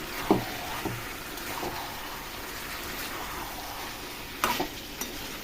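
Jackfruit curry with potatoes and sour curd sizzling in oil in a pan, a steady frying hiss with occasional stirring scrapes and knocks of a spoon.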